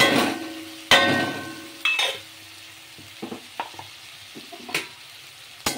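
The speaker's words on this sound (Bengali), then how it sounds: "মশলাটাকে কষিয়ে নেব।" Ground spice masala of chilli, coriander, cumin and amchur powders frying in a pan, with a steady sizzle under sharp scraping stirs and spatula knocks, close and fairly loud.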